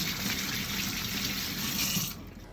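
Tap water runs steadily over a piece of ginger root, skin on, being washed under a kitchen faucet, a broad continuous gush that drops off abruptly near the end.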